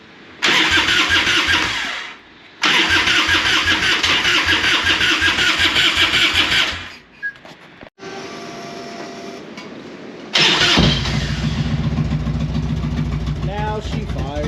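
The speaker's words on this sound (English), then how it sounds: "Now she fires up." A 1999 car engine with about 89,000 miles cranks through a few loud bursts before firing up and settling into a steady, rough idle.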